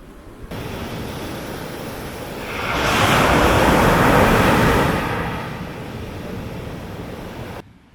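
Surf rolls onto the beach at Drobni Pijesak, Montenegro, on a stormy day: a continuous wash of waves mixed with wind that swells to a louder crash midway, then eases, with no voices.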